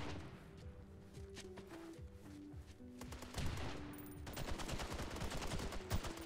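Rapid automatic gunfire and scattered single shots from the tactical shooter video game SOCOM in a demolition round, firing in dense bursts that grow louder and busier toward the end, with no talking.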